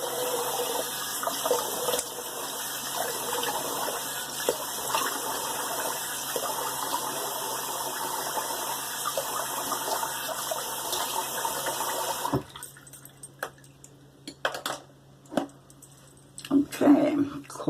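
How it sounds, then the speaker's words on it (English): Cold tap water running steadily into a sink for a rinse after shaving, a continuous close splashing hiss that cuts off, followed by scattered drips, splashes and handling noises. "So let me do my cold rinse"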